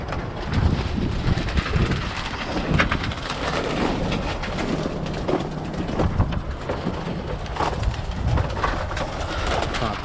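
Outdoor wind buffeting the microphone in winter near a loft of Birmingham Roller pigeons, a constant rumbling roar with gusty swells throughout, and pigeons cooing underneath.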